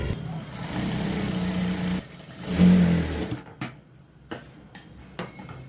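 A sewing machine runs in short bursts, stitching a straight half-inch seam along blouse cloth, its steady whir stopping and restarting with quiet clicks between runs.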